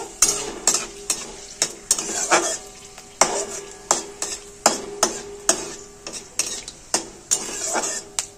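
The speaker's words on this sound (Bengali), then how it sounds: "গরম তেলের মধ্যে ফোড়ন দিয়ে দেবো গোটা জিরে, দুটো তেজপাতা, এলাচ আর একটা শুকনো লঙ্কা।" Whole cumin, bay leaves, cardamom and a dry red chilli sizzle in hot oil, with a spoon stirring and scraping the pan in sharp, regular knocks about every half second over continuous frying hiss.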